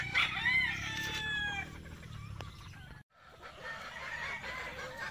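Hens on a farm cluck close by while a rooster crows at the start, with a brief drop-out before the soft clucking and other bird calls continue.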